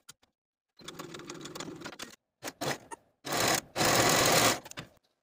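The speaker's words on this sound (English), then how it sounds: "Take this section to the sewing machine and sew from the dot, backstitching to secure" A sewing machine stitches a blouse seam with a 5/8 inch allowance, backstitching to secure it. It whirs in several close bursts of different lengths, stopping and restarting, with short silent gaps and no talk.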